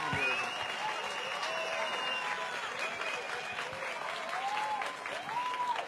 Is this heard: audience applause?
yes